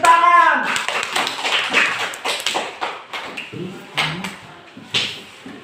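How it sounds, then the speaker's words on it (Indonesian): A school class claps hands during a music lesson, a ragged burst of taps and claps with voices mixed in, thinning into scattered individual claps. "Bagus, tepuk tangan."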